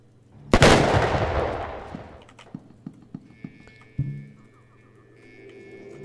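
An explosive flask going off in the horror game Fear and Hunger, a single loud blast that trails into a long crackling decay, followed by a few sharp thuds and a second lighter impact, with no voices.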